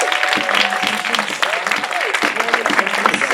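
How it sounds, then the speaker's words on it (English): An audience applauding a visiting teaching class at a Romeo and Juliet school workshop, a steady wash of clapping with voices talking and calling out over it. "a big round of applause for our incredible teaching class"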